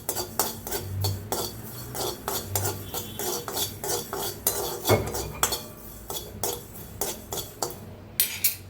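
Onion seeds being stirred and lightly dry-roasted in a pan, a spoon or spatula scraping and clinking against the metal in a steady, close rhythm, with no talk.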